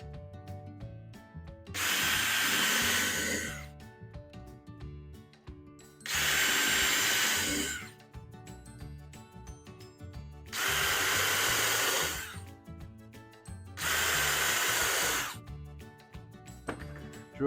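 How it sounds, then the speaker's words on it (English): A power drill whines loudly drilling wood during barstool assembly, in four long bursts of about two seconds each, separated by brief quieter pauses. "At this point, I take the drill"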